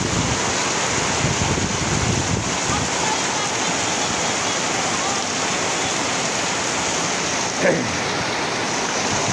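Steady heavy rain roars with a broad hiss over a vegetable garden while strong gusty wind buffets the microphone, a constant wash of noise with one brief gust near the end.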